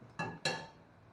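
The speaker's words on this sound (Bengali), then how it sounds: "ওভেনে কড়া বসাচ্ছি।" A metal kadai set down on a stove gives two close, bright metallic clanks, the second louder, each ringing briefly before it fades into quiet.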